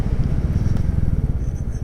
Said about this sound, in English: I've got to keep the engine running because it's powered up by the USB socket at the moment